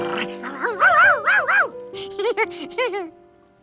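A cartoon dog from a kids' animated show gives a run of high yipping, whimpering barks, two bursts of rising and falling cries close and loud with a brief pause between.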